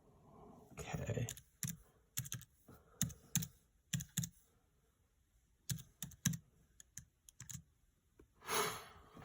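A password is typed on a computer keyboard in quiet, close bursts of key clicks, with short pauses between the runs of keystrokes.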